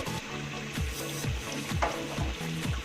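Cut green chilies are stirred into squid frying in a pan, with a steady sizzle under repeated scraping strokes of a utensil against the pan at a regular rhythm, close up.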